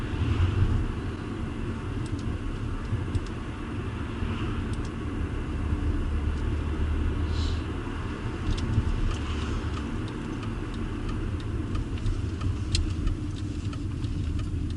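Six-cylinder BMW E36 323ti cruising, a steady low engine and road rumble heard from inside the cabin without letup.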